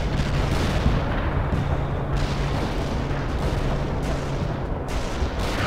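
Units firing in World in Conflict, a dense, continuous barrage of gunfire and artillery booms layered over a steady rumble of battle, loud and unbroken throughout.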